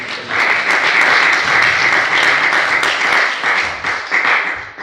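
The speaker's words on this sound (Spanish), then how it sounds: "Denle un fuerte aplauso a Cristo Jesús." A church congregation applauds in a sustained burst of many hands clapping, loud and even, with slight swells and a small dip near the end.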